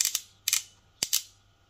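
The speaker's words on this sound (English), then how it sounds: "I like clicky lever" Clicky lever switch of a Madeshow M10+, flicked three times, each flick giving a crisp close-up pair of sharp clicks in a quiet room.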